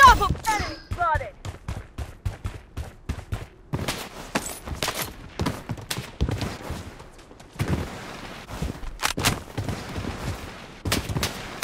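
Rapid bursts of automatic gunfire from an Origin-12 loadout in the shooter game Blood Strike, with dense clustered shots and pauses between volleys, under brief game voice callouts.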